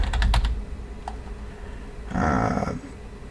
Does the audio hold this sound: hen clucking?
no